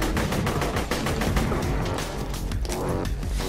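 Gunfire in a shooter video game comes as a dense, loud barrage of rapid overlapping shots with sharp cracks and bursts, continuous from start to finish.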